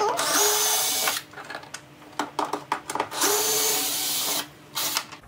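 Power driver backing a Torx screw out of an EZGO RXV golf cart, three bursts of whirring, the first and last about a second long, with short clicks and rattles in between, close by.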